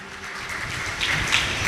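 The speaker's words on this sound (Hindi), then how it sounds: "उनके लिए भी जोरदार तालियां" An audience claps for donors at a Bhagavat katha religious gathering, giving a steady wash of applause that swells slightly toward the end.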